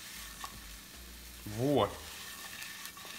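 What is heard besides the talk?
potatoes with mushrooms frying in a pan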